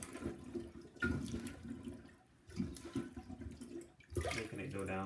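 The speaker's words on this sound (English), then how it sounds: "So I think that'll make the water drain somewhat." Water draining and gurgling out of a toilet bowl after plunging during a toilet replacement, heard in several loud rushing surges with pauses between them, close by.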